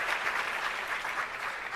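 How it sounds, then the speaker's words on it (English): An audience at the launch of 4IR centres of excellence claps in a steady, even round of applause, moderately loud and continuous for its whole length. "Let's give another big round of applause for Director General,"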